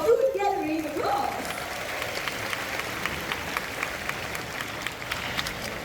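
An audience at the Jurong Bird Park bird show breaks into sustained applause, many hands clapping at moderate distance in a dense, steady patter, with a presenter's voice heard over the start.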